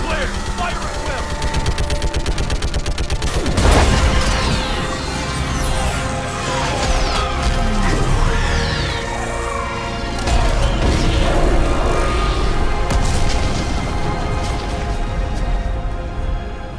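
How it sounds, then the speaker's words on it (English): Orbital strike pounding a live Reaper in the video game Mass Effect 3, dense continuous barrage of booms, rapid gunfire-like crackle and heavy impacts, loud and sustained with a big blast partway through. "I need an orbital strike. We're clear! Fire at will!"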